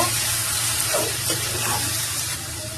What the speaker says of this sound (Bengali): এখন ভালো করে মিক্স করে নিব।